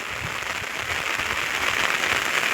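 Heavy monsoon rain pours onto village rice paddies, a steady, dense hiss of drops that grows slightly louder, with no voices.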